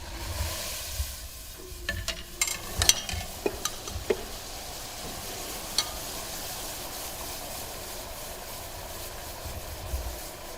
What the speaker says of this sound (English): The boiling, the liquid nitrogen boiling, you got a warm pipe, but it's cooling down.